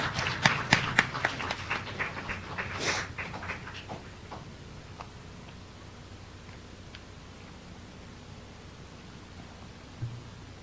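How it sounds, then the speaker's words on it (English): Applause for quiz participants at the close of a round: a short burst of scattered claps that thins out within a few seconds and leaves near silence. "Can we give a round of applause to all our participants?"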